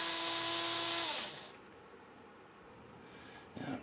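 An HO scale model locomotive's small electric motor whines at a steady high pitch, then winds down and fades to a faint hum, with a brief clatter at the end.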